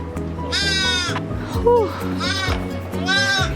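A baby lamb on a farm bleats three times in shaky, wavering cries, close and clear over a low background hum, while a person briefly exclaims between the bleats.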